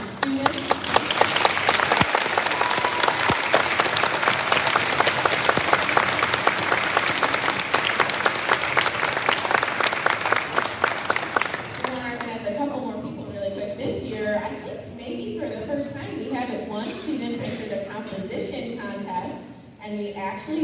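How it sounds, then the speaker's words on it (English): A school concert audience applauds loudly for student performers, a dense, sustained clapping that tapers off partway through as an amplified voice begins talking over the fading claps. "let's give a round of applause to these students"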